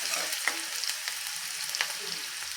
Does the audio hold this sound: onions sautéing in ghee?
yes